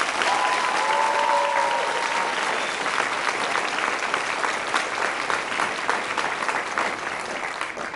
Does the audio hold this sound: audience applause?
yes